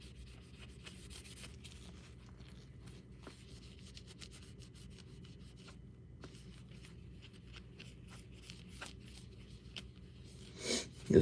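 A buffer cleaning cloth rubs steadily across the layered surface of a 3D print, a soft continuous scuffing close by and fairly quiet, ending with a brief louder swipe.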